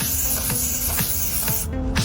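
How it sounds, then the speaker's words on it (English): Detergent sprayed from a bottle onto a tissue during car throttle cleaning gives four or five short hissing spray bursts in steady rhythm, close and clear over a constant background hum. "Spray it on a tissue."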